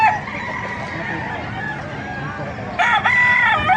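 A rooster crows loudly near the end at a market in Bocaue, a rising, harmonic call cutting through steady background noise and faint chatter.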